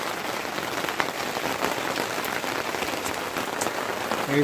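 Heavy rain falls steadily, a loud, dense patter on surfaces close by that continues without a break, and no one speaks.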